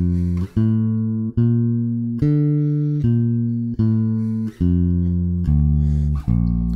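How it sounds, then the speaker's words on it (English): Bass guitar arpeggios played with a shifting technique, a run of about nine clean, evenly spaced sustained notes stepping through the pattern, close and clear with no talking. "practice those bigger arpeggios using that kind of shifting technique"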